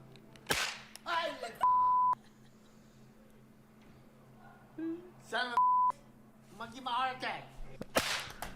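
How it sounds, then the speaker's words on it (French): Two short, flat electronic censor beeps cut across speech in a clip of New Year's mishaps, each a steady tone lasting about half a second, set among sharp cracks, bangs and scattered voices. "ils ont bipé une insulte en vietnamien ou en thaïlandais"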